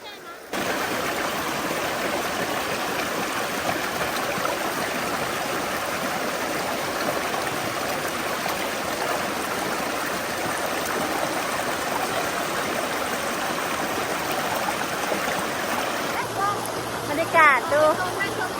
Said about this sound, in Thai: มีลูกหินแล้วก็น้ำไหลแบบเนี้ย